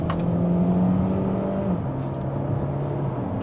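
A DS 7 SUV's automatic gearbox kicks down from inside the cabin, and the engine note climbs and settles in a steady droning hum with a shifting pitch.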